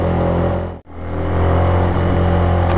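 A motorbike engine drones steadily while climbing a steep track from a lake back up to a hill road, loud and close, with a brief dip in the sound before it resumes straining.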